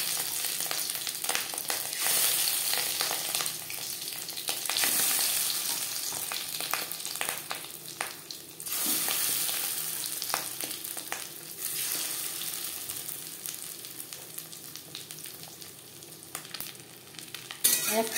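Marinated fish eggs drop into three spoons of hot refined oil and fry with a steady, loud, close crackling sizzle that continues throughout, with occasional sharper pops and no voices.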